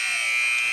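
Halftime buzzer at a boys' high school basketball tournament game, Oklahoma Union versus Idabel, a loud, steady electronic buzz held through the short moment without a break.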